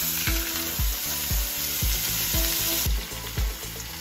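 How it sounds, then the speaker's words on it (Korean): Beef steak searing in a hot pan with a pat of butter, a close, continuous hiss and spatter of frying fat over a regular, thumping low beat. "버터 한 조각까지 툭 넣어주면 타지 않고 맛있게 스테이크 전문점처럼 구울 수 있어요."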